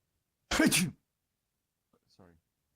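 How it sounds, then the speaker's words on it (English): A single sharp, close sneeze bursts out of silence, followed after a pause by a faint murmur of speech. "Sneezed."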